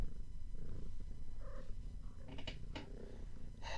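A cat purrs softly and close by in a quiet room, a low continuous rumble with a few brief higher chirps toward the end.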